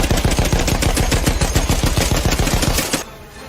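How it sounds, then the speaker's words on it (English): Machine gun fire from a World War I fighter plane in the game Western Front Ace, a loud, rapid, evenly spaced burst lasting about three seconds before cutting off abruptly. "Joseph opens fire."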